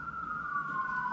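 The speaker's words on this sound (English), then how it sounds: "I'll wait for the ambulance to go by." A siren wails steadily as an ambulance passes by, its tone sliding slightly downward over a constant low background rumble, loud and continuous with no talking.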